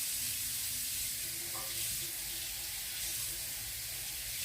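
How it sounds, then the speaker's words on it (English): A tap runs warm water into a long tub, giving a steady, faint hissing rush throughout with no voices. "And I'm going to fill it up with warm water."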